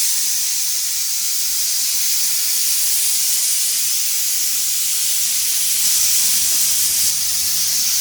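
A pressure cooker holding potato soup gives off a steady, even hiss of escaping steam that runs for the whole stretch at moderate loudness, with no voices over it.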